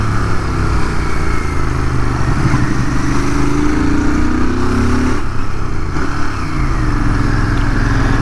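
A 2023 Royal Enfield GT650 motorcycle being ridden, its twin-cylinder engine giving a loud, steady close-up drone with slight shifts in pitch as the revs change, and no talking.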